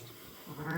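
A single sheep bleats near the end, a short wavering call rising out of quiet background noise after a hushed start.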